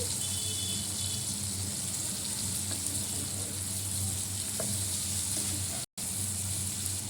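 Food frying in oil in a home kitchen, a continuous close sizzle with faint stirring, steady and fairly quiet throughout, with one brief dropout near the end.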